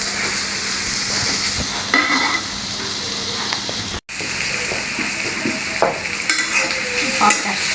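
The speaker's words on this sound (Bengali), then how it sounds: "এখন পেঁয়াজটাকে নেড়ে চেড়ে ভালো করে রান্না করে নিচ্ছে।" Chopped onions fry in a pan while being stirred. A loud, close, continuous sizzle runs underneath scattered scrapes and clinks, with one brief cutout near the middle. No voices are heard.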